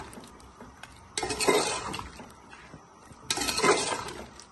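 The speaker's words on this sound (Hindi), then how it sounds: "मिक्स करेंगे इसको अच्छी तरीके से।" A spoon stirs spice paste into chicken in a cooking pot, making two separate bursts of scraping and clinking against the metal, each lasting about a second, with quiet pauses between.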